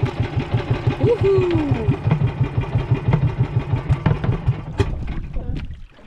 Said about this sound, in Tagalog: Namatay yung aming makina.